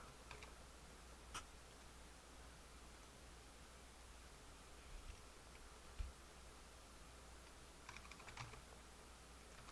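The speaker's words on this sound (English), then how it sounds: "Keyboard." Quiet typing on a computer keyboard, sparse faint key clicks and a few sharper taps scattered over a steady low background hiss.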